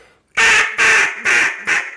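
An RNT DC Mondo duck call is blown hard, giving four loud, raspy quacks close up in an even rhythm, each with a buzzy rattling edge, alone with no voices.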